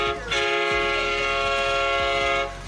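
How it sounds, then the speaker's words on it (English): A train horn sounds near a high school football field during a Friday night East Knox Bulldogs game, one long, loud, steady multi-tone blast holding for over two seconds before cutting off. "the train horn, I call it, for the East Knox Bulldogs right in front of us"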